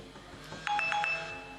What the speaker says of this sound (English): oh wait, that's my phone, sorry.